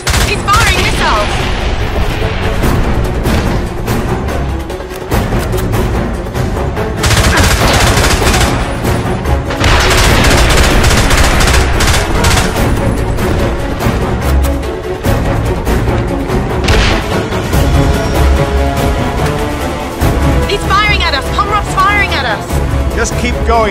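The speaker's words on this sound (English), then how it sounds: "James, he's firing missiles!" In James Bond 007: Blood Stone, gunfire and missile launches crackle and boom in rapid loud bursts during a train chase. Engine roar runs underneath, and voices speak over the din.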